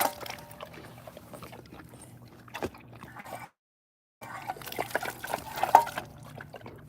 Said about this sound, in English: so she can drink her own water